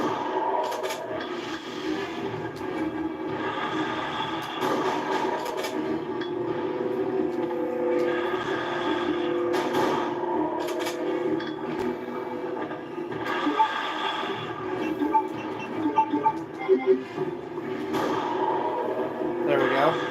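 A train in the 1998 original Resident Evil 2, played on PS3, rumbles steadily for the whole stretch, mixed with scraping game effects under continuous talking.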